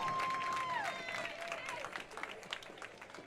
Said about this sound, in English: She gets a nice round of applause here from everyone, though